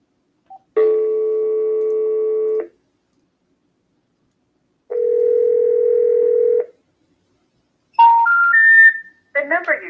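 During a cold call, a steady telephone line tone sounds twice in long, even bursts separated by silence, followed by a rising three-note service tone and the start of a recorded voice.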